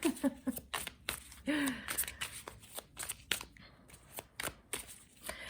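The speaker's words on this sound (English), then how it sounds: "I'm just gonna shuffle the cards a million times until they get annoyed with me." Tarot cards are shuffled by hand in repeated quick riffling bursts, crisp and close, with soft pauses between passes and a brief voice sound near the start.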